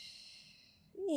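A long, soft breath exhaled during a slow Pilates stretch, a close, airy hiss that fades out before a voice begins.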